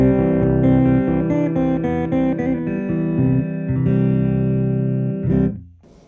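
Clean electric guitar through a PRS MT15 Mark Tremonti lunchbox head with the treble set low, warm picked chords and single notes ringing up close before decaying at the end, no voices.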